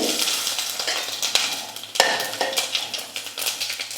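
Asafoetida, fenugreek and mustard seeds sizzle and crackle in hot oil for black pepper rasam, a loud, dense frying hiss with scattered pops and a spoon clinking and stirring against the pan, no speech.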